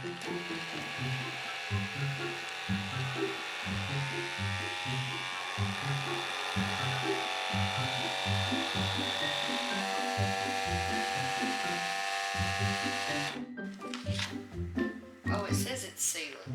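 A vacuum sealer pumps air out of a bag of green beans, giving a loud, steady motor drone with a pulsing low rhythm that runs nearly unbroken, then stops abruptly, leaving a few brief clicks and handling noises.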